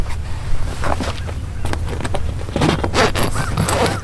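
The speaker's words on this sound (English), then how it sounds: "Let's check out the zipper." A zipper is worked on a Polaris RZR 570 soft rear windshield outdoors, giving a series of close, scratchy rasping pulls in bursts over light wind noise.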